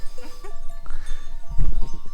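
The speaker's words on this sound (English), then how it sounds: "There's a goats and lambs coming up." Goats and lambs bleat close by near a van in rural Greece, several wavering cries in quick succession with some low background noise.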